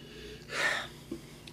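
A person takes a single audible sniff of swirled red wine, Chilean Cabernet Sauvignon, in a glass, a short soft inhale close to the microphone followed by quiet breath.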